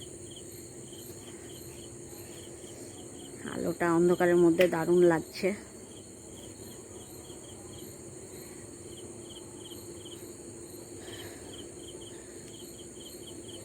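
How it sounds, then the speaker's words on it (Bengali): Crickets chirp steadily through a pitch-dark moonless night by a temple-lit veranda, a constant shrill drone that continues under a brief stretch of speech near the middle. "অন্ধকার রাত্রির ঝিঝি পোকা ডাকছে।"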